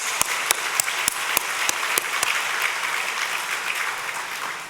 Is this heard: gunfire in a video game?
no